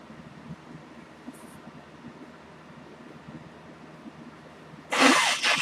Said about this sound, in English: I don't know why I have to sneeze every time on live stream